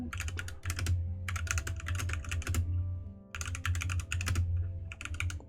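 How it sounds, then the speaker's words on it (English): A small, loud computer keyboard clatters in rapid bursts of close keystrokes, broken by brief pauses, over a low steady hum with no speech. "This little keyboard is so loud."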